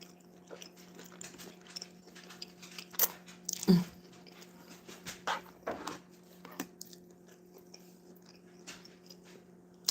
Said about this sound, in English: you're doing too much chewing.